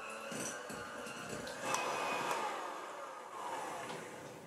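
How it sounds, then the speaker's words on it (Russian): A steady electric mixer whir runs throughout as it whips soft butter, a continuous mid-pitched motor drone with slight shifts in pitch as it beats. "Мягкое сливочное масло собью в течение 7 минут."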